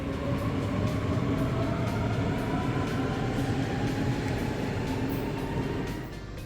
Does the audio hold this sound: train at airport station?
yes